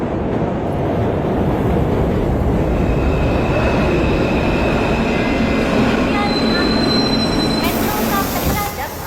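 A metro train runs loud and close throughout, with a dense steady rumble and rattle and a high wheel squeal rising near the end, heard from on board.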